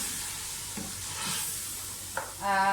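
Mutton pieces frying with garam masala, salt, roasted crushed coriander, cumin and turmeric in a pot, giving a steady soft sizzle with scraping stir strokes and a louder hiss near the end.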